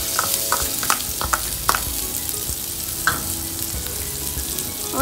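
Onion, ginger and garlic fry in melted butter in a kadai with a close, steady sizzle. Sharp spoon scrapes and clinks against the pan are scattered through it, and nobody speaks.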